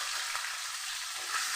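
Boiled eggs fry in mustard oil with salt and turmeric in a kadai, giving a soft, continuous sizzling hiss that stays steady and fairly quiet throughout.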